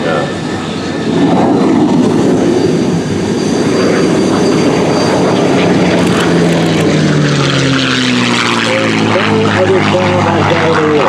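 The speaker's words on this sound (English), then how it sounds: "Listen to the sound of a Rolls-Royce Merlin engine." A Rolls-Royce Merlin piston aircraft engine roars loud and steady, its deep droning pitch shifting as the plane passes close by at an airshow.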